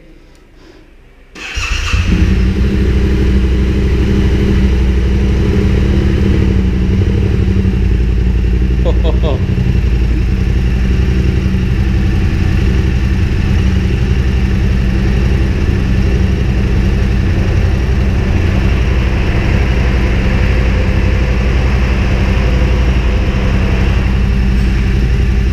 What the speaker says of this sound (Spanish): Ahí tenemos el arranque de la Tenere.